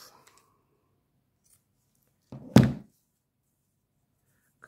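Scissors make a single firm snip through the end of an organza ribbon, a short crisp cut standing alone in an otherwise quiet room.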